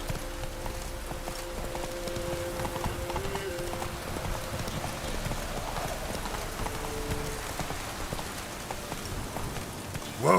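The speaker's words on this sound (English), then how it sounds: "Whoa there, Roach." A horse gallops through rain in The Witcher 3, with steady rapid clip-clop hoofbeats over a constant hiss of rainfall. A brief whinny may sound near the end.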